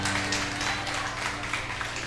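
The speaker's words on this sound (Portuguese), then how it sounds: "Aplaude o nome do Senhor." A church congregation claps together, a dense, steady wash of applause that fills the room for the whole stretch, loud and continuous with no pauses.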